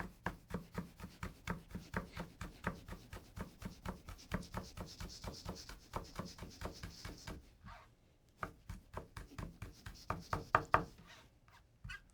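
A Japanese knife minces fresh cilantro on a cutting board with fast, steady rhythmic knocks, briefly pausing and then resuming, all close and fairly soft.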